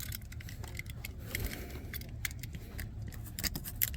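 Sharp metallic snips and clicks of cutting off screw tips protruding from a car tire's tread, a quick irregular series of close, crisp cuts with no talk.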